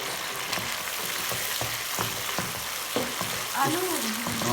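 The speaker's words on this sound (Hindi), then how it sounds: "आलू डाल के थोड़ा सा उसको भून लिया" Boiled, mashed potatoes are fried in a pan for a Lahori egg-chana curry, giving a constant close sizzle with occasional stirring scrapes and no talking.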